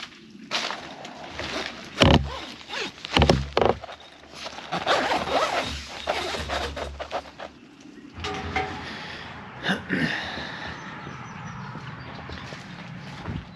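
Zipper on a tent or enclosure used for sandblasting an ATV, heard as several loud, quick zips close by along with rustling fabric and movement.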